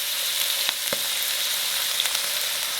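Chicken liver fries in hot oil on a tawa, giving a bright, even sizzle with a few sharp crackles and light scraping taps.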